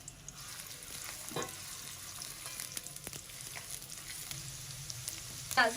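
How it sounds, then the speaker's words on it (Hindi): A steady, gentle sizzle of chopped onions frying in oil in a pan, with occasional light clinks and stirring noises close by. "इसके अंदर हम 3 टेबल स्पून हमारी चॉप की हुई प्याज शामिल कर देंगे। इसको हम अच्छे से पिंक होने देंगे।"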